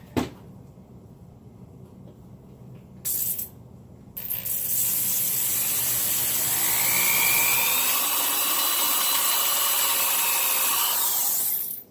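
A drill bores holes through a metal part on a knockoff Suzuki Sirius motorcycle being customized, starting with brief bursts, then settling into a loud, sustained high-pitched whine with grinding metal friction for several seconds.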